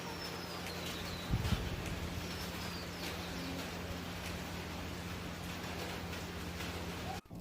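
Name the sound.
rain falling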